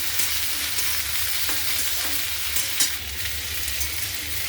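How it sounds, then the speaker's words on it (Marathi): Mustard seeds and cumin frying in hot oil before okra goes in, a continuous close sizzle with faint crackles and an occasional stir, no talking. "अगोदर अशी राई जिरे टाकलीच घालायची, म्हणजे मग ती मस्त भाजून घेतल्या जाते तेलामध्ये"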